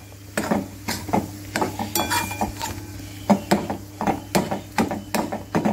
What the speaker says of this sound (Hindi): कंटिन्यू चलाते हुए इसे हम लोग भूनेंगे अच्छे से।